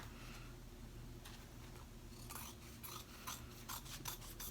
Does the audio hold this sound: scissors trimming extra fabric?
yes